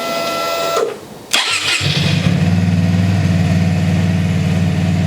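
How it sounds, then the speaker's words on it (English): A 2023 Keeway RKV125 motorcycle engine cranks briefly after a fuel-pump whir, catches and settles into a steady, close idle that runs alone to the end. "we'll start it up and have a listen"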